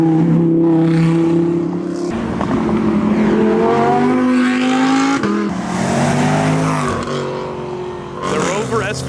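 Supercars leaving a car show rev hard and accelerate close by, one turbocharged engine roaring and shifting, with excited crowd voices shouting over it.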